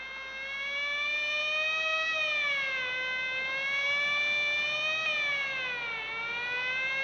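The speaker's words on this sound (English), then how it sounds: "Quite unnecessary use of that siren," A wailing siren, loud and continuous, sweeps slowly up and down in pitch for the full stretch, with no voices over it.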